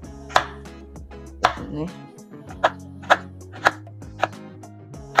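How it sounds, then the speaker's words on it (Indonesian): A knife chops 175 grams of palm sugar into small pieces on a board in about eight sharp, evenly spaced knocks, with soft background music and a brief word spoken. "Ini aku ada 175 gram gula merah. Kita akan potong kecil-kecil."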